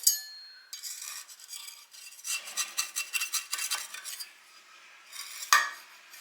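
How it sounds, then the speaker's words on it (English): A knife scraping around the inside edge of a cast iron pan holding baked overripe-banana batter, giving a run of rhythmic metallic rasps and scrapes, close and fairly loud, ending in a sharper clink. "So I am going to take a knife and I'm just going to run around the edge of it."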